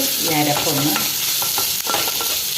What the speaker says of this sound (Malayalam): അതിനാണ് ഈ എണ്ണയിൽ ഈ അരപ്പിട്ട് ഇളക്കുന്നത്